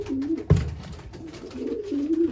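Breeding-loft pigeons coo in soft, throaty rolling phrases, close by. Two cooing bouts are split by a brief thump or flutter in the middle.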